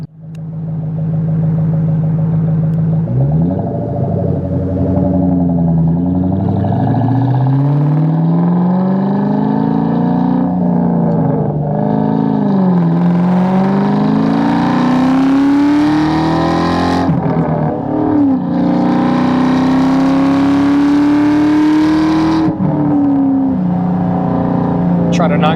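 A 2001 Ford SVT Cobra on a road drive, its engine droning loud and close from inside the car, revving up through gears with rising pitch, easing, then pulling hard again, while a person talks over it.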